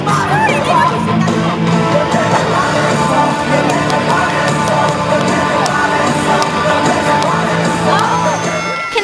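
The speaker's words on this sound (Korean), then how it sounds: "여러분 여기 지금 함성 소리 들리시죠?" A crowd at an international cheerleading competition in Wonju roars throughout with overlapping shouts, yells and whoops. The noise is loud, sustained and close, and voices mingle in the din.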